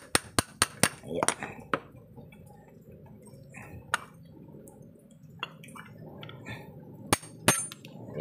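A hammer strikes a spin dryer part in a quick run of sharp metallic taps, followed by scattered knocks and clinks at close range, with someone talking quietly between the hits.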